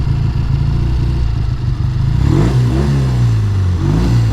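A 1969 Triumph T120R motorcycle idles with a deep, lumpy exhaust beat, then revs up sharply around the midpoint, pitch climbing and falling as the throttle blips, close and loud.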